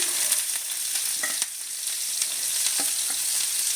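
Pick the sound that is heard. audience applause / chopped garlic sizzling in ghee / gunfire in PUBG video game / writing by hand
chopped garlic sizzling in ghee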